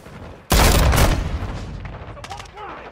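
Gunfire in the Modern Warfare 2 video game opens with a sudden loud blast that rolls into a dense, rumbling burst and fades over a couple of seconds, followed by fainter game sounds.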